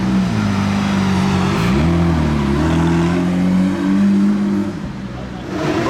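Cars drive along a busy Monaco street during the Grand Prix weekend, with a loud nearby engine droning and shifting pitch as it moves, then fading slightly as traffic passes.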